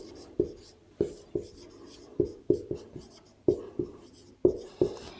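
Chalk or marker writing on a board in a math classroom: a series of sharp taps and short scratchy strokes in irregular rhythm, close and clear, with no speech.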